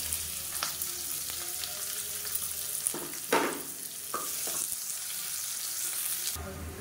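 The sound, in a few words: sliced big onions frying and stirred in oil in a pressure cooker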